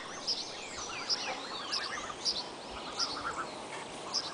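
An unfamiliar breeding bird calls repeatedly outdoors, sharp high notes recurring every half second or so over a soft, noisy background, with no voices.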